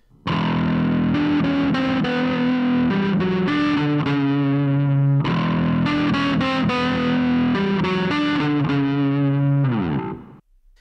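A riff played through a distortion effect: a loud, sustained, heavily driven line with repeated phrases, close and alone, with no voices.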